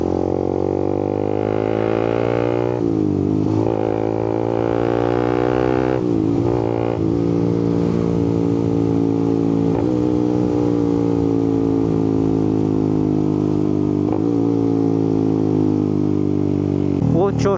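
Suzuki GSX 150 motorcycle engine droning steadily on the road to Kaybiang Tunnel in Cavite, with rising and falling pitch through several gear shifts and throttle changes, close and loud under continuous wind, with a rider talking over it.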